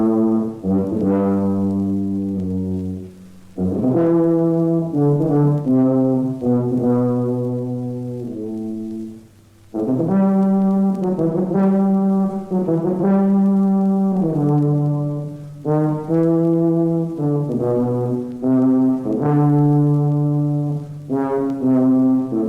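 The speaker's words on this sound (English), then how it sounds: "an odd-looking instrument called the tuba" A tuba plays a slow, deep, sustained melody of low, rich notes, loud and alone with brief breaths between phrases.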